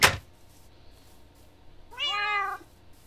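In a survival video game, a short sharp thud opens, then after a pause a single clear, drawn-out cat meow rings out, moderately loud against a quiet background.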